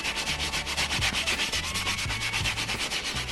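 A scuff pad rubbing cracked red leather on a Porsche 911 Turbo S seat, giving a close, loud, rhythmic scratchy swishing with quick regular back-and-forth strokes and no talk.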